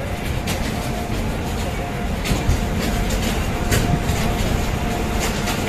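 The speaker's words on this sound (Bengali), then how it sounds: "এই ইঞ্জিনটাই খোলা হলো ট্রেনের সামনের দিক থেকে, এখন এই দিকে গিয়ে লাগানো হবে।" A WAG9 electric locomotive from the Visakhapatnam shed is uncoupled from the front of a train and shunted along a station platform, heard as a steady, broad rumble of rolling machinery with faint clanks in busy surroundings.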